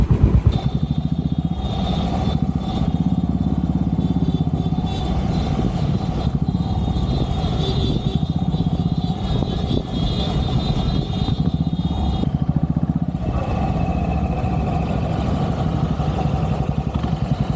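A Royal Enfield Classic 500 motorcycle engine runs steadily while riding in an Independence Day flag rally in the UK, a loud continuous thrum with wind noise that stays constant throughout and carries no talk.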